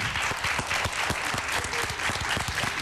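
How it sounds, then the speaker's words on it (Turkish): A studio audience at a Turkish TV program gives sustained, dense applause, a steady wash of many hands clapping throughout. "Evet alkışlar hiç dinmesin."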